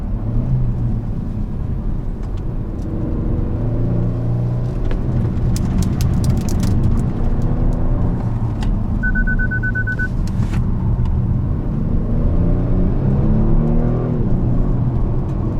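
A Kia Stinger GT engine drones and accelerates steadily on a race circuit, heard from inside the cabin, with rising and falling pitch over a constant road rumble and a short electronic beep.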